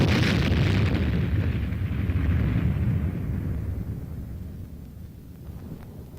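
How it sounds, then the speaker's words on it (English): Simulated atomic explosions in a military exercise, a heavy rumbling boom at the start that rolls on and slowly fades away, with wind buffeting the microphone. "A mock mushroom cloud rises high in the sky as simulated atomic explosions add realism to the maneuver."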